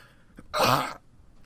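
A single sneeze, close and sudden: one short, breathy burst lasting about half a second, with no other voices around it.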